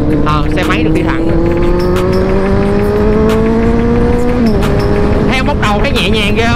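A heavy BMW R 1250 GS adventure motorcycle riding on a road, its engine note steadily rising through a gear before a brief shift near the end, close and loud, with someone talking over the engine.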